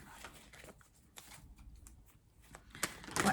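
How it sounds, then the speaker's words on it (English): A deck of oracle cards is shuffled close up in a quiet room, with several rapid riffling bursts and soft slides building to a louder flurry at the end. "I'm going to try and shuffle a bit better than that."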